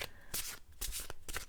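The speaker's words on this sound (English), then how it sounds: "I gotta stop shuffling" Playing cards being shuffled in a series of crisp riffling bursts with brief pauses between them, close and fairly loud, with no talking over them.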